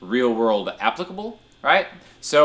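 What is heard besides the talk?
None of the usual background noises is heard.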